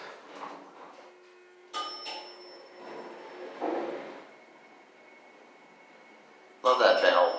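A 1940s elevator in an abandoned hospital sounds its bell in bright ringing chimes, first briefly then again at the end, over faint mechanical hum and quiet talking nearby.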